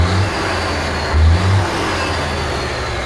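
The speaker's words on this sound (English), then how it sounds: "Looks like the air compressor is working just fine." A truck's engine and air compressor run at close range, a steady low mechanical drone with a couple of brief surges in the low thump, no voices.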